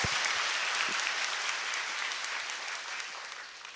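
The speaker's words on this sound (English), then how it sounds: "A round of applause." Audience applause at a university event in Phnom Penh, a dense steady wash of clapping that tapers slightly toward the end, fairly distant, with no voices.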